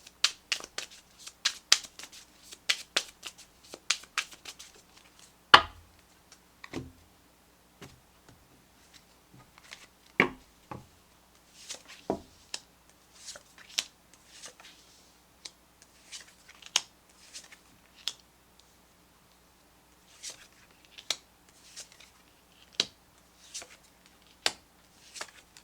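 Tarot and oracle cards being shuffled and pulled, with a flurry of crisp riffling snaps at first, then scattered soft flicks and slaps at irregular intervals. The sounds are close and quiet, with no talking.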